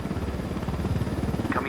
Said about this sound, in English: Had a Unidad helicopter on you.